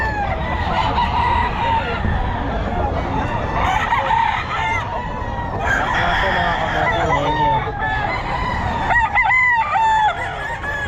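A lemon sweater gamefowl rooster at the Bocaue pet market crows loud and close several times over a busy market background, and the crows are mixed with clucking and a little nearby chatter.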